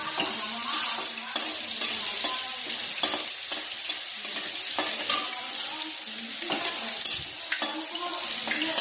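Spice tempering frying in hot oil until it turns red, a constant close crackling sizzle with periodic stirring scrapes throughout, no voices.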